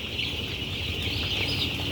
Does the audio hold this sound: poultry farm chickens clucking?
yes